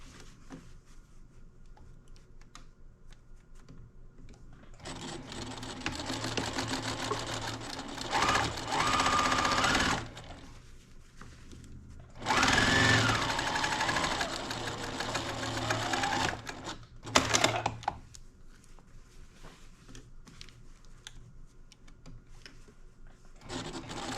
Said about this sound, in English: I'm going to stitch now on this line on my machine.